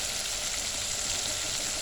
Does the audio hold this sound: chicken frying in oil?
yes